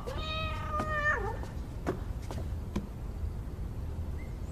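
A pet cat indoors gives one drawn-out, rising-then-falling meow close by, followed by faint soft ticks over a steady low room hum.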